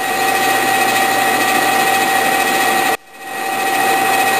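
A metal lathe turns a cylinder base at a low speed of about 150 RPM, giving a steady loud whir with a constant tonal hum that cuts off abruptly near the end.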